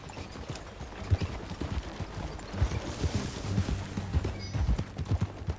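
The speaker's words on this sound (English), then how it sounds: "That a new horse?" Horse hooves clip-clop in the Red Dead Redemption 2 video game, a steady, moderately close walking rhythm on the ground with a faint whinny, and no talking.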